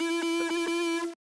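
A synthesizer sine wave passed through a distortion effect gives a buzzy, harmonically rich steady tone with a few slight pulsing wobbles, then cuts off abruptly after about a second.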